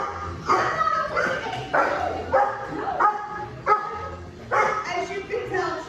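A dog barks in repeated close bursts, loud, agitated bow-wows mixed with higher yips and whimpering sounds, coming in an uneven rhythm with short pauses between volleys.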